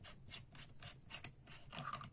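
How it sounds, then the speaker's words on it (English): The threaded head of a Vastfire adjustable-focus hunting light for air rifles is unscrewed by hand, giving faint, close, rhythmic scraping and ratchet-like clicks that repeat several times in a few seconds. "Unscrew the bulb."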